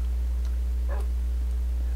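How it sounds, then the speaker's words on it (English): Minecraft dogs kept as puppies in a bed on a game server: a brief, faint yip or whimper around the middle, over a steady low hum. "he's got his puppies in his bed"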